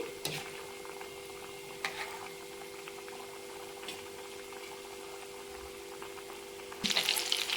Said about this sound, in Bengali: বাকিগুলোও নাড়াচাড়া করে ভেজে নিচ্ছি